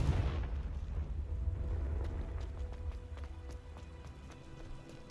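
Confringo, a fire blast spell in the video game Hogwarts Legacy, bursts with a heavy low rumbling whoosh at the start, then fades into scattered crackles and small impacts.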